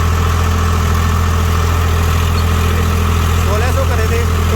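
A tractor engine holds a smooth, steady idle at about 1600, a loud, continuous low rumble with constant vibration and no change in pace.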